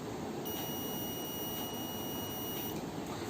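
A buzzer on a breadboard circuit gives a steady high-pitched electronic beep continuously for about two seconds over a constant low background hiss, then cuts off.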